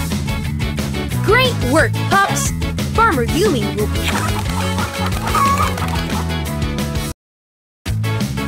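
Cartoon chickens cluck in the PAW Patrol Rescue World video game, repeated short clucks over steady game music and a child-like character voice, with a brief silent gap near the end.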